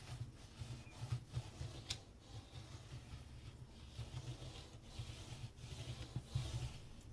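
A bone folder presses and rubs down paper craft box pieces for a gift box, producing soft, faint scraping and rubbing strokes close by with no speech.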